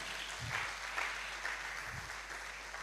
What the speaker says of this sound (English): So clap for me, please.